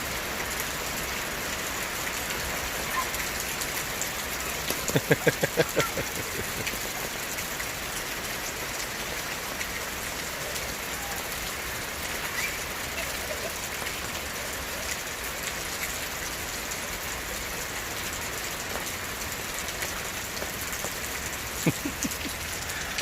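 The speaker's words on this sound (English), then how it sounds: "it's raining." Steady rain falls and patters on a surface, a constant broadband hiss with a couple of brief louder spatters, no voices.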